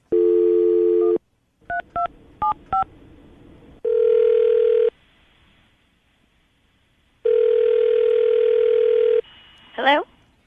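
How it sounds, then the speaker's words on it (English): A landline phone call being placed: a dial tone, a quick series of keypad beeps, two longer tones, then a ringback tone, all loud and close and with no talking over them. "we'll call her, see if we can get her on the phone"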